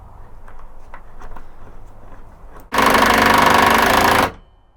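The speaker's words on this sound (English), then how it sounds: "using my impact on the inside to tighten it down" An impact driver tightens bolts for a floating bed in an E350 box-truck camper conversion, giving one loud, close burst of about a second and a half after quieter handling noises.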